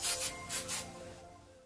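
Hairspray hisses onto hair in a few short, bright bursts sprayed close by, followed by a fading quiet tail.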